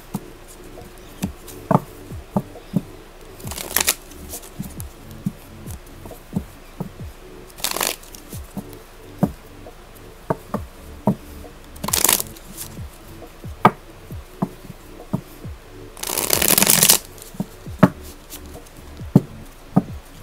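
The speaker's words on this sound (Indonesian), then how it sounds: "Oke, kita shuffle dulu kartunya" Tarot cards shuffled by hand during a reading, giving a near, steady run of soft riffling taps and clicks with several louder bursts of card riffles, no talking.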